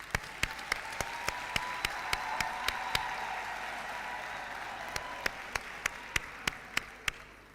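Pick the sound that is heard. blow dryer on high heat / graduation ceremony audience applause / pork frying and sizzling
graduation ceremony audience applause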